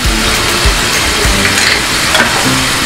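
Lote (Bombay duck) fish frying in a pan with garlic, ginger and green chili paste, a loud steady sizzle with soft stirring knocks throughout.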